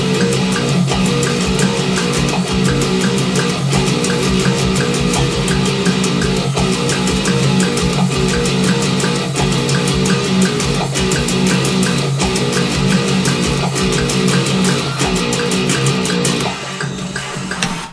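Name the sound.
bass guitar riff, Doom Eternal cover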